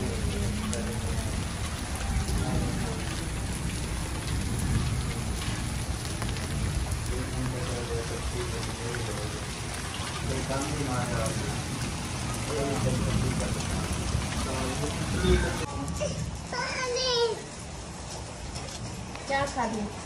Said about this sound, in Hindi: ये देखें फुल तेज़ बारिश हो रही है।